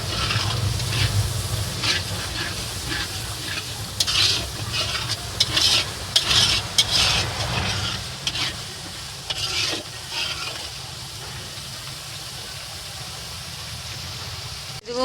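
Chili, onion and ginger paste drop into hot oil with a burst of sizzling and stirring that crackles unevenly for several seconds, then settles into a quieter, steady hiss, with no one talking.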